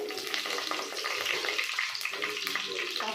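Cumin, mustard seeds and curry leaves frying in hot oil for a brinjal sambar give a dense, steady hiss with small pops and crackles, close and continuous.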